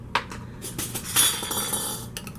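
A lid set onto a glass canning jar of pineapple chocolate habanero jam, giving a few sharp glassy clinks and light metallic taps spread out over a couple of seconds in a quiet kitchen.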